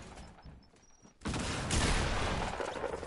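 Bursts of rapid gunfire from enemies in a Fortnite match crack in suddenly after a quiet second and then roar on as a loud, continuous barrage that fills the rest of the moment.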